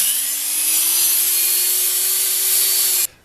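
A long hand-saw stroke cuts a chunk out of the wooden apron of a woodworking bench, a loud continuous rasp for about three seconds that ends abruptly, close up, with no voices.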